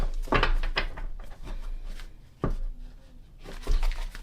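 Oracle cards being shuffled nearby: quick papery riffles and taps in short bursts, with dull knocks between them.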